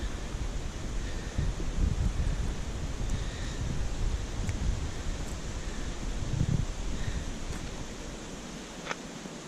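Wind blows at a campground near the coast in Victoria, a steady moderate rush with faint rustling and occasional soft gusts, fairly quiet and without voices.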